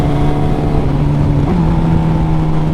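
Turbocharged Suzuki GSX-R 1000 motorcycle, a loud sustained engine drone right at the rider, pitch holding steady then shifting briefly mid-clip as it pulls to overtake on a straight.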